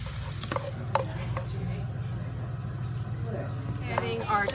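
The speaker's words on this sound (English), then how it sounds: "And you can hear this sizzling." Apricots sauté in melted butter with a soft, continuous sizzle under occasional stirring clatter and light utensil ticks, fairly quiet throughout.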